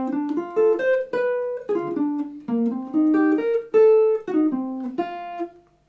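A slow bebop major 7th arpeggio phrase, single notes stepping up and down in clear distinct attacks with a few sustained tones, played alone and fairly loud with no talking.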